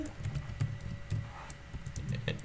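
Typing on a computer keyboard while writing HTML, with quick irregular key clicks that patter steadily and close by throughout, with no talk.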